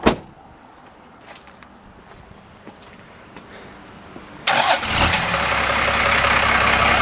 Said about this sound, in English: You have to push the clutch in to start it.